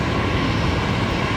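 A Dash 8 turboprop airplane taxiing at Brisbane Airport, giving a loud, continuous broadband engine roar that holds steady throughout with no voices.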